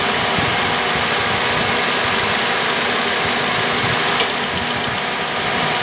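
A Toyota Vios engine idling under an open hood, a steady, even broadband hum with faint rhythmic ticking that runs without a break, close and moderately loud, with one brief sharp click near the end.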